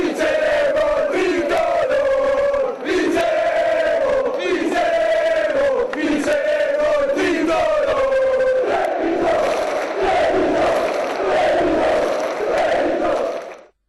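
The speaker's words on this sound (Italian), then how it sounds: "Nei cori, urlati a squarciagola" A large crowd of Treviso basketball fans chants loudly and continuously in unison, voices rising and falling in rhythmic waves, like fans in a packed arena.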